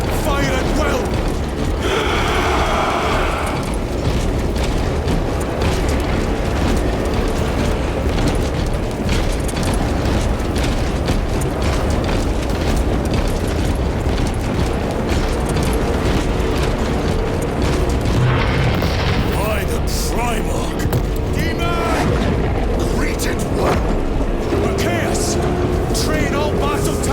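Battlefield explosions and massed weapons fire from the video game Space Marine 2, a dense, continuous rumble of booms and mechanical clatter that runs the whole time, with voices speaking over parts of it.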